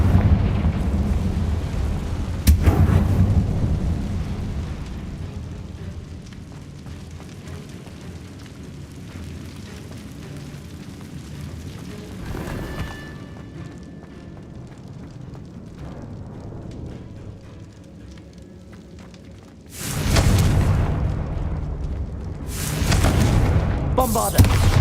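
Fire-spell blasts from the Hogwarts Legacy video game erupt in loud booming bursts with rumbling crackle, a sharp hit early, a quieter stretch, then heavy repeated explosions near the end.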